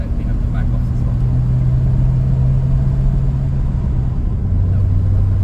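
Pontiac Chieftain with a freshly rebuilt factory gearbox accelerating under steady throttle, a loud continuous engine drone holding one pitch and then dropping lower as it shifts into fourth near the end.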